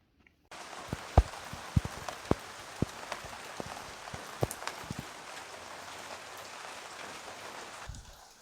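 Steady rain pattering on a surface with occasional louder individual drops striking nearby, continuous and moderate throughout, before dying away at the end.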